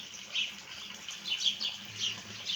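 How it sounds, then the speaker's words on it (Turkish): Small birds chirp and twitter outdoors in short bursts, fairly faint against a soft background hiss. "O yüzden kuş sesleri fazla olabiliyor bazen."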